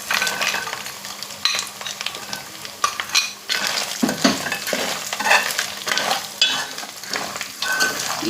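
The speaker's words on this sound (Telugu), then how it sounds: "ఇప్పుడు ఇందాక మనం కలిపి పెట్టుకున్న పీతలను అయితే ఇందులో వేసుకుందాం." Small crabs tipped into a pan of frying onions and ginger-garlic paste, crackling and sizzling close up with frequent stirring scrapes and clinks of a utensil against the pan.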